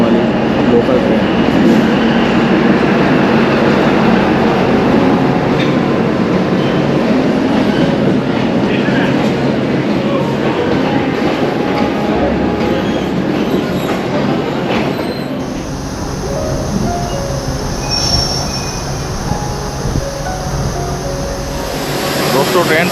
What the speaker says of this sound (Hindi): दक्षिण बस्तर की ओर जाने वाली लोकल ट्रेन पहुँच चुकी है। ये एक DEMU ट्रेन है, यानी कि डीजल इंजन से चलने वाली लोकल ट्रेन।